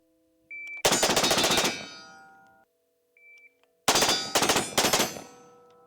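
Several loud, close gunshots from a SCAR 15P rifle, fired in two bursts of rapid shots with a short pause between them, each crack ringing out with a metallic tail and no talking.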